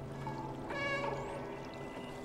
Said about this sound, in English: What if I meow right now?